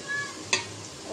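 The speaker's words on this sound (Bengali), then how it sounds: "পেঁয়াজ কুচি, পেঁয়াজটা ভেজে নেব" Chopped onion frying in a pan, a steady soft sizzle with a brief sharp stir or clatter midway.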